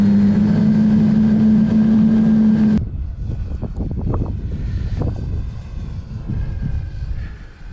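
A radio-controlled model airplane carrying a camera buzzes overhead at an RC club field, its engine droning loud and steady with a whine, then dropping away after about three seconds into a fainter, fluctuating hum.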